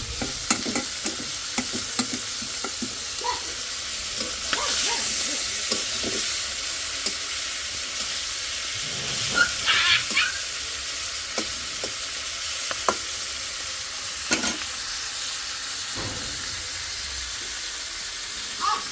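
Fish with spices crackles and sizzles in a hot pan, a continuous close hiss broken by frequent scraping stirs and metallic clanks of the spatula, with no one talking.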